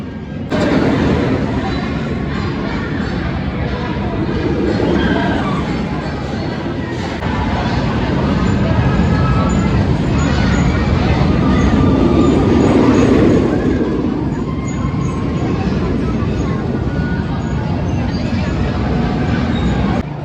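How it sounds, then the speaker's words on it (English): Continuous loud rumble and rattling roar of the Smiler, a 14-loop roller coaster at Alton Towers, recorded on the ride, with wind noise swelling and easing throughout. "It's time for the park's 14 looping roller coaster, the Smiler."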